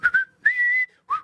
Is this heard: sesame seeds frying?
no